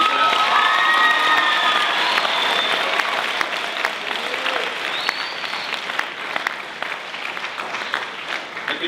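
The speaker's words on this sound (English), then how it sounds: "Can we get one more giant round of applause for Sam?" A large festival crowd at a live poetry performance gives a big round of applause mixed with cheers and whoops, loud and sustained before gradually thinning out.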